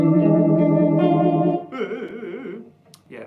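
Electric guitar played through a Zvex Vibro Phase pedal, loud sustained chords with a swirling, warbling phase modulation, then quieter wobbling notes and a brief final strum.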